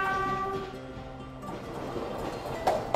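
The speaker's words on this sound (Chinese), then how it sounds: "你看，火车一来" A train rolls through a railway station platform area, with a sustained tonal horn-like hum fading into a rumbling, clattering pass and a couple of sharp metallic clicks at the end.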